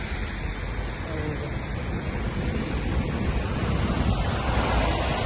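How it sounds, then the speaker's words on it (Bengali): Heavy rain pours down in Saudi Arabia, giving a loud, dense, continuous roar with a windy, splashing wash across the whole scene and no clear voices. "এই দেখেন সৌদি আরব আজকে অনেক বৃষ্টি আসছে"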